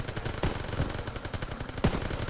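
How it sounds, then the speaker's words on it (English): Rapid machine gun fire in Call of Duty: WWII, a steady stream of quick rattling shots with two heavier blasts punctuating the burst, moderately loud and continuous without speech. "MGs, open fire."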